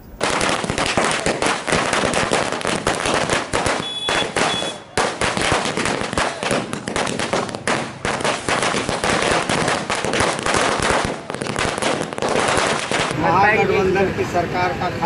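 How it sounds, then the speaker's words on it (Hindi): BJP workers set off strings of firecrackers at a town crossroads in celebration, rapid loud crackling bursts that run almost continuously with brief gaps, close and harsh, while voices carry underneath. "बीजेपी के कार्यकर्ताओं द्वारा पटाखा छोड़कर खुशी मनाई गई"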